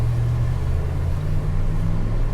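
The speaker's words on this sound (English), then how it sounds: "We're going over bumps right now." A 1993 Ford Lightning pickup rolls over bumps on a road, heard from inside the cab as a steady low engine and road rumble with a constant drone and no distinct thumps.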